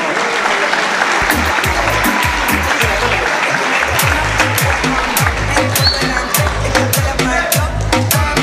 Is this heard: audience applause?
yes